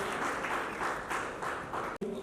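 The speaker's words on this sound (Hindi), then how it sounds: "आपकी तालियां थोड़ी कमजोर है" An audience at an award ceremony applauds in a steady, moderately quiet wash of clapping that continues throughout, with a brief dip near the end.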